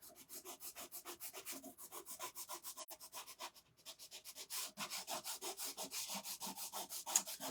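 Loosened paste is scraped off a surface in rapid, rhythmic back-and-forth strokes, close and quiet, a steady rasping that briefly pauses midway and then resumes slightly stronger.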